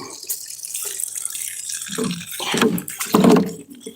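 Garden hose water running and splashing onto soil near a peach tree, between lavender and plum trees, a steady close wash that gets louder and more gurgling toward the end.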